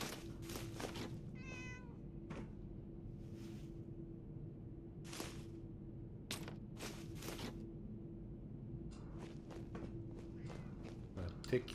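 A cat meows in Fallout 4 with the Commonwealth of Decay mod, one brief meow over low game ambience, followed by scattered footstep thuds and clicks.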